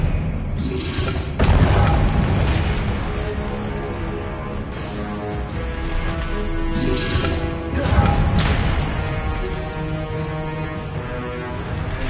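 Spell blasts and explosions from the Hogwarts Legacy video game, with a Griffindor character in a duel; heavy thuds and booming impacts, some sharp whooshes, spread unevenly across a busy combat scene.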